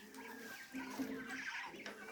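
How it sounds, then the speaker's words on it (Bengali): Quails kept in a cage give soft, brief clucking chirps and faint rustling, close by and quiet, with no voices. "মূলত 21টি কোয়েল পাখি আছে।"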